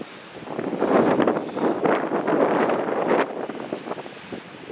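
Strong gusty wind roars across a microphone ahead of a bad storm, a broad rushing buffet that swells loud through the middle and eases slightly toward the end, with no voices.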